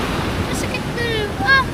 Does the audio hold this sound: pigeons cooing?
no